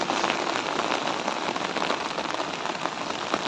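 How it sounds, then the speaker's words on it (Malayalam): Heavy rain pours steadily in a dense, continuous hiss, drumming close and loud on surfaces with no letup and no voices. "ഭയങ്കര മഴയാണ്."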